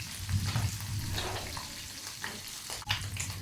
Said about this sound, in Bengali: অবশ্যই ফ্রাই করা শেষে আমি এখন উল্টাইয়া দিব, খড়খড়া করিয়া ফ্রাই করবো।